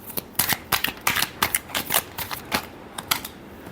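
Tarot cards are shuffled by hand in quick riffling bursts, a crisp close flutter of card edges repeating in short rhythmic flicks with no talk.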